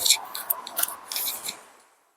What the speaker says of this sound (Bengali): এভাবে দেখো সুন্দর করে আস্তে আস্তে আমি এটাকে শিলে সমস্ত বেটে নেব